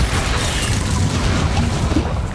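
A Bombarda spell detonating in Hogwarts Legacy: a loud, sustained, rumbling blast that fills the whole moment with dense, heavy noise and no voices over it.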